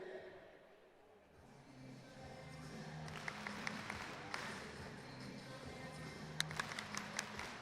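An audience claps at a PBR Australia bull riding rodeo event in Tamworth, applause swelling from a quiet start into sustained crowd clapping with a few sharper individual claps near the end.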